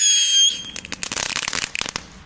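Category 1 consumer fireworks bought from a Spar supermarket go off close by: a brief high whistle, then a rapid burst of crackling pops that fade out.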